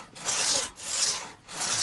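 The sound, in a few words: crosscut saw cutting a tree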